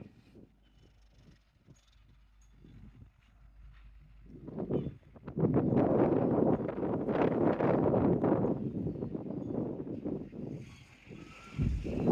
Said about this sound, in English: Certainly got the wind here.